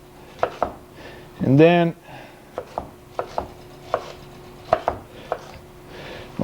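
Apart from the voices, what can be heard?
knife cutting vegetables into half-inch strips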